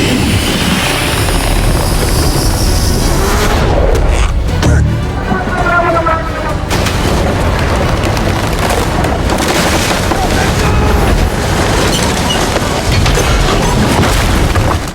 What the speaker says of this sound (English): Now, Garp's cannon firepower was astonishing